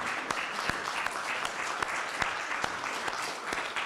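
Applause at the annual meeting of the Icelandic Pastors' Association, a fairly quiet but steady patter of many hands in a room, with a few sharper individual claps standing out.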